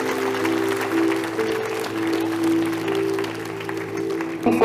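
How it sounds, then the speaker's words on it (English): An audience applauds a school captain at a school event, steady clapping over a sustained droning tone for several seconds, with a brief louder burst at the very end. "Can we have a huge round of applause for our school captain?"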